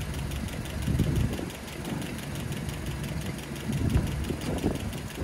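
A Land Rover Series 3 engine idles steadily at close range, its number 3 valve tapping out a rapid, even ticking over the low mechanical rumble, with no talking.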